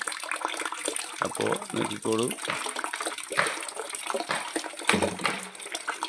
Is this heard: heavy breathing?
no